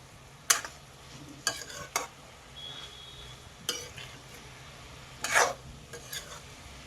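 Drumstick pods fried with onion in a pan over a low flame, a soft sizzle broken by several sharp scraping stirs of a spatula against the pan at uneven intervals.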